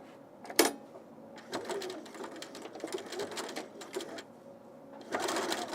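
A sewing machine stitches a seam on a songbird top in short, quiet bursts of rapid mechanical whirring, stopping and restarting, with a sharp click near the start and soft handling sounds in between.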